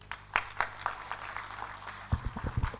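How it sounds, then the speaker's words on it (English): Scattered claps from an audience after a climate initiative speech, a few sharp isolated hand claps, fairly faint, followed by a voice speaking near the end. "Please, let's keep clapping."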